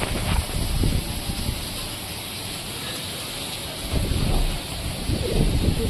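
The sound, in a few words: wind starting before a storm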